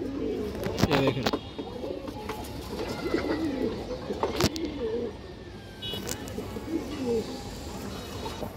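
Pigeons cooing, ring-eyed red khaki racing birds kept as a breeding pair in a loft, with repeated low rolling coos close by, some sharp knocks and clatter, and faint background noise.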